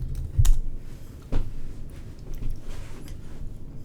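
Computer keyboard typing, a handful of quick soft key clicks with a couple of louder taps near the start, close and fairly quiet over low room noise.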